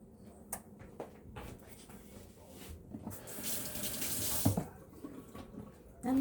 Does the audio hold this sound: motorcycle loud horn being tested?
no